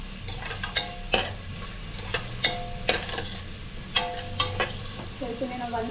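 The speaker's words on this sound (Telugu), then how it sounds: "ఈ ఆనియన్ కొంచెం వేగాలి బాగా, మరీ బ్రౌన్ లేకుండా మీడియంగా కుక్ చేసుకోండి" Onions frying in a pan while being stirred with a utensil, a soft sizzle underneath repeated scraping and clinking strokes at a fairly regular pace, close up.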